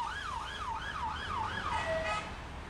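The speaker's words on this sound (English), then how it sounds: "The ambulance pulls up and they've gone in to the house and seen Matthew performing some rudimentary" An ambulance siren wails in a steady rising and falling cycle, repeating about five times before ending on a held tone, heard fairly faintly over a constant background rumble.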